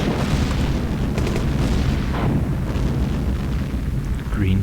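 Mammoth tanks firing and dealing damage in a real-time strategy battle on Sedona's Pass, a dense, continuous barrage of heavy booms and rumbling blasts that never lets up.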